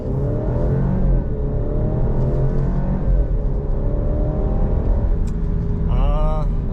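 Alfa Romeo Giulia Competizione, 2023 facelift, accelerating hard from a standstill in sporty driving, its engine note loud and rising steadily through the gears for several seconds, with a brief whining chirp near the end.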